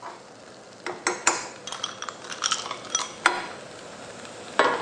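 Clams, onions and mushrooms stir-frying in a pan, with a soft sizzle under sharp clinks and scrapes of the utensil against the pan, coming in irregular bursts close by.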